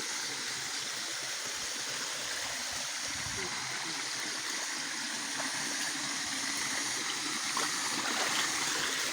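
A small stream flows steadily with a continuous watery rush and gurgle, loud and close, unchanging throughout.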